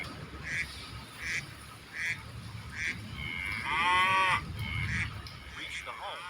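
A cow just bought at a livestock market gives one long, drawn-out moo near the middle, with shorter animal calls and outdoor background noise around it.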